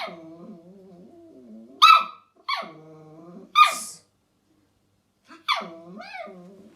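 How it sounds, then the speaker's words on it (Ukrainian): A toy poodle whimpers and whines, then lets out three loud, sharp barks close by, with a final yelp after a short pause. "І ти ще й гавкаєш голосно"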